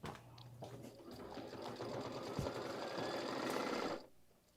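An embroidery machine stitches a placement line for strawberry fabric, running as a steady, rapid mechanical whir of needle strokes that holds for about four seconds and then stops.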